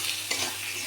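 Egg curry with coriander masala being stirred in a pan, a soft continuous scraping and gentle sizzle at close range with no voices.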